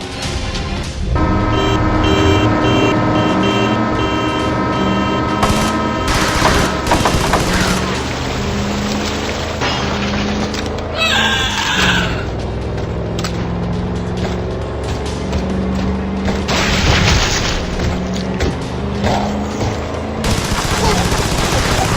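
Repeated gunfire crackles in Road of the Dead 2, bursts scattered through roughly twenty seconds of loud, dense game audio with steady music and vehicle noise underneath.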